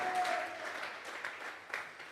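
A church congregation claps during a Tuesday Bible study service, a moderate, diffuse patter of many hands that continues steadily and is heard at a middle distance without voices over it.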